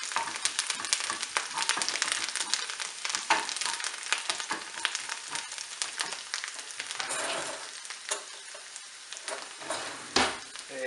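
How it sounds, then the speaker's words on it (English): Chopped parsley frying in a pan on low heat gives a steady, close crackling sizzle that carries on throughout, with occasional stirring scrapes and no talk. "I'm gonna put parsley, low heat, and just fry it for"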